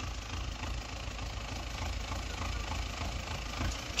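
Tractor engine running steadily during crop spraying of wheat, a low continuous mid-range hum with faint knocking, fairly close and alone, ending with a brief clank.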